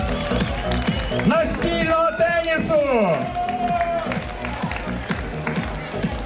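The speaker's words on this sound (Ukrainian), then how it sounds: "Ваші оплески." Audience applause and cheering at the opening ceremony of the Special Olympics III Open Games in Lviv, a crowd clapping steadily under an announcer's amplified voice as sports are introduced.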